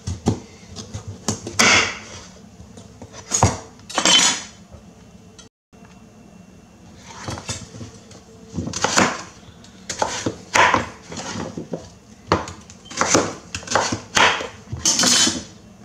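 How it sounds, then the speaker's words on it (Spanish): A knife cuts through a pumpkin on a board, with repeated irregular chopping thuds and scrapes, some in quick clusters and others spaced out, close and fairly loud. "vamos a cortar la calabaza ahora"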